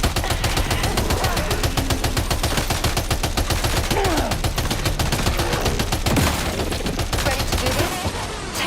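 Sustained heavy gunfire erupts after an order to open fire in a video game, rapid machine-gun bursts and overlapping shots pounding without pause for over eight seconds, loud and close.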